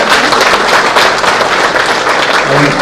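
Dense, steady applause from an audience filling a hall at a film producers' press meet, loud and sustained throughout with a murmur of voices mixed in.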